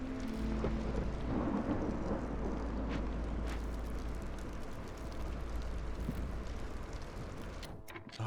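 A steady thunderstorm in the video game Against the Storm, with continuous rain hiss and a low rumble of thunder throughout, fairly soft and unbroken by talk.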